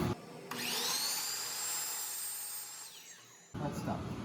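A power tool cuts a vista screen, starting up with a rising high-pitched whine that holds steady for a few seconds and then winds down, heard fairly close and alone.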